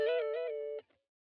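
A brief sampled soul guitar phrase for a retro beat, with sustained, wavering chorused tones held for under a second before stopping into silence.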